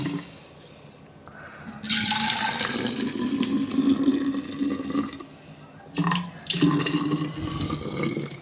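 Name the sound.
boiled hot water being poured into a bottle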